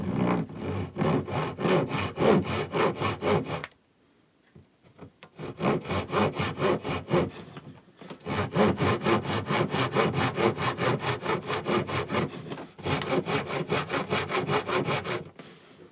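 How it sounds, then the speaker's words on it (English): A handsaw cuts through wood in fast, rhythmic back-and-forth strokes, loud and close, in three long bouts separated by short pauses. "a handsaw will get it done and it won't take too long"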